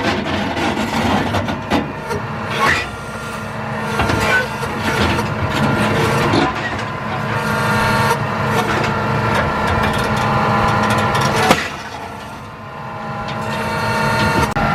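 Tractor engine running continuously at a steady drone, with occasional clanks and knocks from the machinery.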